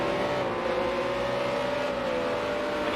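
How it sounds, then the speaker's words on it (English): Race cars in a racing video game pull out of pit lane onto the Le Mans Bugatti Circuit, a continuous droning engine roar with a steady whine and no talk. "Look at all those cars scrambling out on track."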